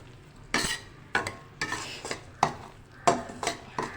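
Semolina roasting in a pan for sooji halwa is stirred slowly with a utensil, giving a series of about eight distinct scraping clinks against the metal over a soft dry sizzle, close and moderately loud.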